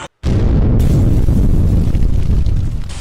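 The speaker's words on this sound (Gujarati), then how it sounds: "1 લાખ ના તારા ભાઈ ફટાકડા પડ્યા" Firecrackers burst in a loud, dense roar of blasts and crackling that starts abruptly after a brief silence and carries on without a break.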